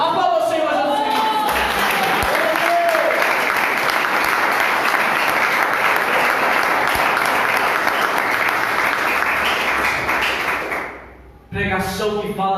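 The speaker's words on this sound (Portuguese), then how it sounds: "Aplauda o Senhor Jesus Cristo." A church congregation at an evangelical service claps and applauds loudly and continuously for about ten seconds, with voices shouting over the applause before it fades out and speech resumes.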